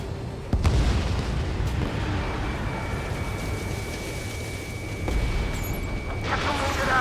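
Missile launch and explosions in the Ace Combat 7 flight combat game: a sudden sharp blast followed by a sustained roaring rumble with a steady whine, another heavier surge later, no voices.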